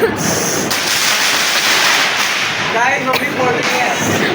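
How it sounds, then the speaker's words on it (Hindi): Diwali firecrackers bursting in a steady, dense crackle and hiss that fills the whole stretch, with faint sharp pops near the end. "मम्मी पटाखे फोड़ रही है"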